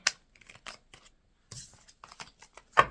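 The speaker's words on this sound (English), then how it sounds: "I just wanted to just shuffle these cards 2 minutes" A new deck of cards is shuffled in a few quick riffles and soft flicks, crisp papery bursts close by with short pauses between.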